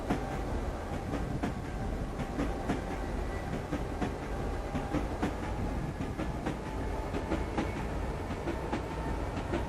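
A train in the Mechanik railway simulator runs steadily along the rails, with a continuous rumble and repeated clickety-clack wheel beats over the track joints, heard alone and without talk.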